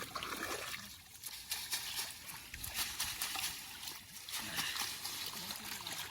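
Water splashes and trickles steadily as a fishing net is washed in fresh water outdoors, a continuous close wash of sloshing and dribbling with faint voices in the background.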